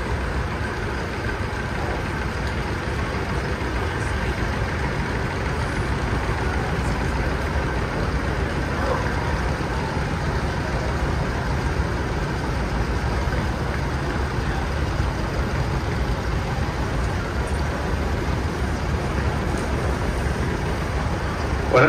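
A 1949 John Deere R tractor engine in a threshermen's reunion parade, a steady low idling rumble with crowd and announcer talk in the background throughout.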